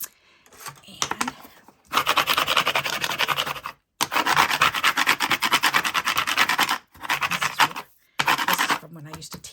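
A paper card rubbed on its back by hand in a card-making session: bursts of dry, rapid scratchy rubbing strokes, close and fairly loud, separated by brief pauses.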